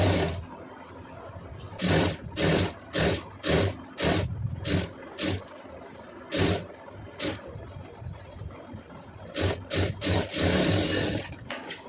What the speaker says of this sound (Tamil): திருப்பி விட்டு ஒரு தையல் அது மேலே போட்டுங்க